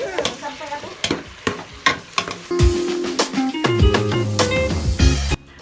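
Pinakbet vegetables being stirred and mixed in a sizzling pan, with repeated scraping and clanking strokes of a utensil over a steady frying hiss, growing fuller and louder midway.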